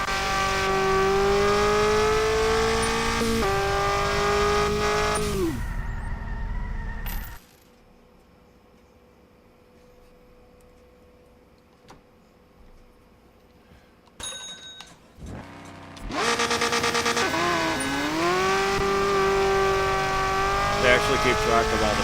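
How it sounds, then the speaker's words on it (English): An overpowered dragster in the racing game RevHead roars loudly as it revs and accelerates, cuts out for several seconds of near silence, then surges back in at full volume. "we built such an OP dragster"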